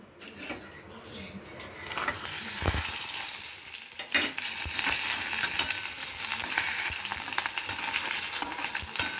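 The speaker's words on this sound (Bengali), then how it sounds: "এবার এক এক করে আমি ফোড়নের মশলাগুলো দেবো প্রথমে দেবো জিরে তারপর শুকনো লঙ্কা দারচিনি গোটা এলাচ হিং তেজপাতা" Whole cumin, dried chilli, cinnamon, cardamom, bay leaf and asafoetida crackle and sizzle in hot oil for chana dal, a steady close hiss with scattered pops and a brief stir of a spoon.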